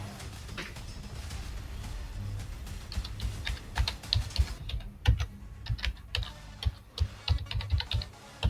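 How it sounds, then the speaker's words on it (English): Typing on a computer keyboard, with steady soft key clicks at first that turn into sharper, irregular bursts of keystrokes, close and alone with no talking. "I'm just typing in what it's telling me to do."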